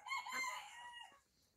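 A hen clucks and a rooster crows briefly nearby, a short bright call with harmonic squawks, fairly faint, with no talk over it.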